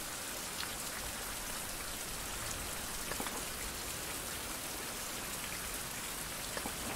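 Steady rain falls outdoors in the forest, a dense, even hiss of drops with occasional louder individual splatters, continuous and unchanging throughout with no voices.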